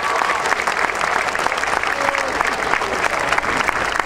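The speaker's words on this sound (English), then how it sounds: "Let's give your parents a round of applause for what they have done" A crowd at a 2004 Queensborough Community College commencement ceremony claps steadily, with dense, even applause that carries through the whole stretch without a break.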